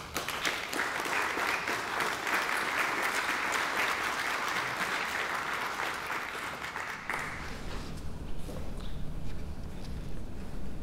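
A university lecture audience welcomes the speaker with steady, close applause lasting about seven seconds, then fading into quiet room noise.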